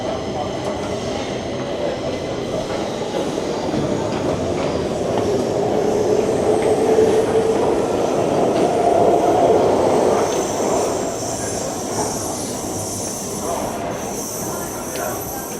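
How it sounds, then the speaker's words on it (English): A Stockholm metro train in motion, heard from inside as a steady loud rumble of wheels on track, with a rising metallic wheel squeal partway through. "we're in the metro"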